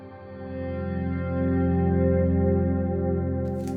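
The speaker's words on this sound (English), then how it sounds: "This is a reverb pedal made in collaboration with Cornerstone." Cornerstone Nucleo reverb pedal washing a sustained guitar tone into a lush, swelling ambient wash, steady and alone, ending with a faint rustle.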